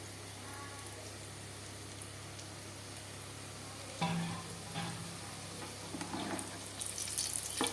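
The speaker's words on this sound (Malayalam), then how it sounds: "ഇപ്പോൾ സ്വല്പം നത്തോലി മീനെടുത്ത് അതും കൂടെ വറക്കാനായിട്ട് ഇടുകയാണ്." Anchovies sizzle in coconut oil over a low flame, a soft steady crackle that turns louder and busier when the fish go into the pan partway through, with light stirring scrapes.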